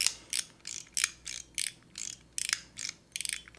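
A stainless steel fidget toy with TPU inserts from Otter EDC clicks in quick ratcheting bursts, about a dozen crisp metallic rattles in a steady rhythm, close and alone.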